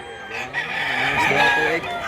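A gamefowl rooster offered for sale at a market in Mantalungon, Cebu, crows a long drawn-out call, loud and close, with faint chatter behind it.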